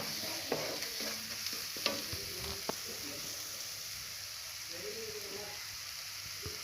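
Spices with turmeric and chili powder frying in a pan for kappa (tapioca) masala are stirred, producing a constant sizzle with scraping spoon strokes and light taps in the first half, then a quieter fry, with no talking.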